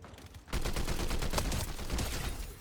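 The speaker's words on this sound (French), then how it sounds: "On va aller là où ça tire." Dense burst of video-game gunfire in a battle-royale match, starting abruptly after a brief quiet moment and continuing as sustained, close, rapid shots with no talking.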